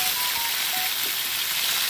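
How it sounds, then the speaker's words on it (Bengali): Spice paste added to hot oil already tempered with nigella seeds, giving a steady, close, dense sizzle and crackle throughout with no talking. "তেলটা গরম হয়ে গেছে, কালো জিরে ফোড়ন দিলাম। এবার এই পেস্টটাকে দিয়ে দেব।"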